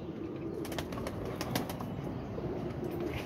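Breeder pigeon pairs in a loft flap their wings in several quick bursts. Faint cooing and rustling sit under the flapping, with no talking.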